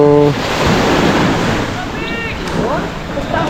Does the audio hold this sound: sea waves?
yes